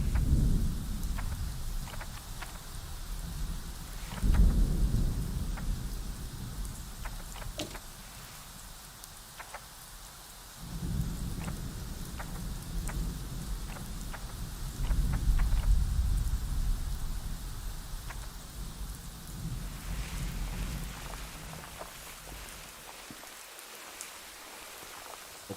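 A rainy thunderstorm in the park-building game Prehistoric Kingdom: constant pattering rain with deep rolling thunder rumbles that swell twice and fade, over a steady hiss and without talk.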